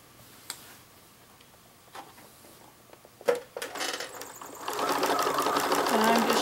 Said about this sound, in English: I'm almost done appliquing the wings on, and I'm using my favorite applique stitch,